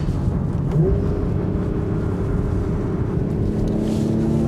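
Porsche Macan engine during a gear change: a steady low interior drone with a brief rise and shift in pitch as the gear changes, constant and fairly loud, no talk over it.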